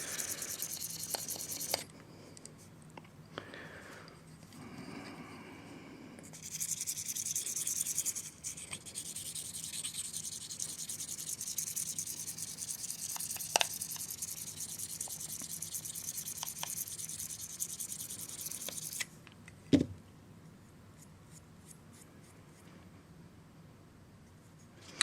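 Stainless Dovo #95 Best Class straight razor being honed on a stone, soft steady rubbing and scraping strokes, quiet and close, with brief pauses and a sharp knock near the end.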